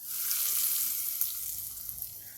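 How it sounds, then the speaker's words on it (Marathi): Hot oil tempering with asafoetida sizzles and crackles steadily as it is poured over raw mango pickle, a close, bright frying hiss with a few small pops. "आता ही जी फोडणी आहे हिंगाची ही मी यावर घालते"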